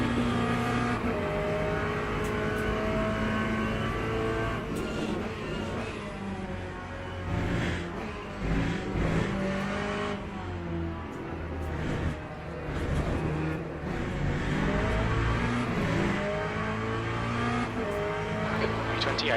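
Hypercars racing in the Le Mans Ultimate sim, engines droning and revving continuously with tire squeal and cars sweeping past, a dense unbroken wall of motor noise throughout.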